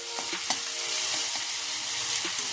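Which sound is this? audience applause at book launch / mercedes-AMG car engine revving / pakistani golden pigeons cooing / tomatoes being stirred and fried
tomatoes being stirred and fried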